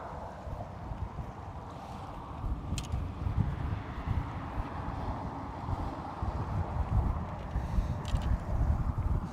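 Strong wind buffets an outdoor microphone beside a big bridge, a steady, loud low rumble with gusting swells that runs the whole time, with no voices over it.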